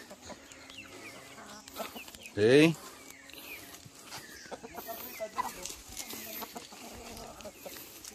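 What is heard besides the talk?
chickens clucking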